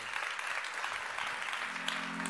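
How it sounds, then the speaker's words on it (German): Applause at the Deep Tech Award 2022 ceremony, a dense, steady clapping from a large audience filling the room, with a brief tone sounding near the end. "großen Applaus!"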